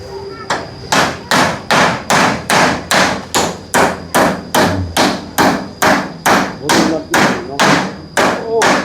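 Hammer blows drive nails while a bathroom roof is being put on, about sixteen loud, close, evenly spaced strikes in a steady rhythm with a little background noise.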